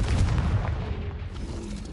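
A Confringo blasting spell detonates in a Harry Potter video game, a dense low boom at the start that rumbles on and slowly fades over two seconds with no voices.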